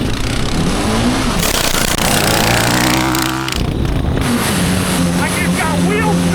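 A cheap $100 Temu-powered go-kart racing in a backyard, its small engine buzzing and revving loudly and continuously up close, with people shouting over it.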